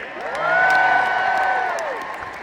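A large arena crowd at a musicals concert at AO Arena Manchester cheers and whoops in a broad, swelling roar that peaks and then slowly fades, with no speech on top.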